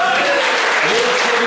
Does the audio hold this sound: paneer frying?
no